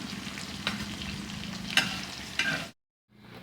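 Ivy gourd (kundru) frying in hot oil in a kadhai: a constant close sizzle with a few sharp scrapes and clinks of a spoon stirring, then the sound cuts to silence before faint sizzling resumes.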